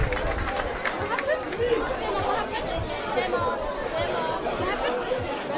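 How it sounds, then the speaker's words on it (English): Crowd at a soccer match between South Sudan and Djibouti in Perth, a lively murmur of chatter and babble rising in appreciation of a defensive intercept, mixed with a commentator's voice. "The crowd appreciate that."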